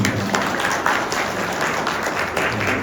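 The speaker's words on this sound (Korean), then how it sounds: "함께해주신 김은주 교수님과 또 패널분께 다시 한번 박수 부탁드리겠습니다" Steady applause from the audience at a regional policy forum debate, dense and sustained clapping filling the room for the panel and professor at the close of the discussion.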